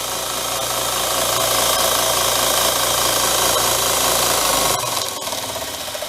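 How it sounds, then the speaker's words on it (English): Bench grinder bolted to a small work table runs at a steady, loud whine with a low motor hum throughout, then winds down near the end. "Can you hear me over the grinder?"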